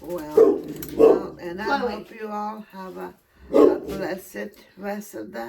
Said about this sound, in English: apologize for the dogs barking because